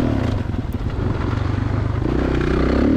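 A 2016 Kawasaki KX 450 dirt bike rides at the ponds, its engine a loud, close, continuous rasp with clattering and scraping from the track throughout.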